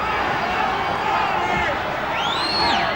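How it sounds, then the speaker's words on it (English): A boxing crowd roars at a WBC super bantamweight title bout between Daniel Zaragoza and Paul Banke, with fans chanting Banke's name. The dense, steady arena noise runs throughout, with a couple of shrill whistle-like rises near the end. "The crowd is shouting Banke"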